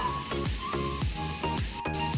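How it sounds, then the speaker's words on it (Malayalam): Onion, green chili and tomato sauté in hot coconut oil for a chicken biryani, giving a steady close sizzle broken by repeated stirring scrapes in a regular rhythm, with no talking. "ആവശ്യത്തിനുള്ള ഉപ്പും കൂടി ഇട്ട് കൊടുത്തിട്ട് നമുക്ക് നന്നായിട്ട് വഴറ്റിയെടുക്കണം കേട്ടോ"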